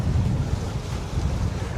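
Strong wind roars steadily across the microphone aboard a Bénéteau First 30 sailboat sailing close hauled, a broad, blustery rush with a low rumble underneath.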